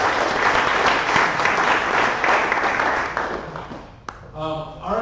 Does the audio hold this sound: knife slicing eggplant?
no